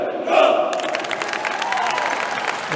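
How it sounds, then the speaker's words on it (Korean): Korea University basketball players chant their traditional team cheer in loud unison before a college game, a booming crowd-like roar of shouting voices that rises sharply and holds steady. "언제나 들어도 우렁찬 고려대학교의 이 전통의 응원 소리였습니다"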